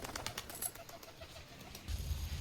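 A pigeon coos softly at home during an Independence Day celebration, a faint low murmur with a few light rustles or flaps, quiet and fairly close.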